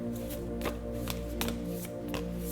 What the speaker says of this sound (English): Let me get some more cards out here.